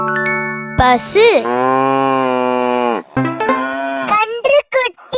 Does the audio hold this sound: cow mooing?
yes